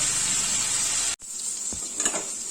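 Cubes of paneer fry gently in a pan, a steady close sizzle that drops out abruptly for a moment and then resumes more softly with a few light clinks.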